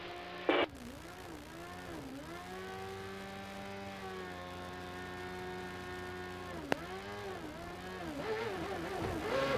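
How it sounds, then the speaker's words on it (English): A CART Indy car engine revs hard and climbs in pitch as it pulls away from the pits at the Miami Grand Prix, loud and close, with a steady high whine and a brief sharp click. "listen to that engine as Vasser comes away"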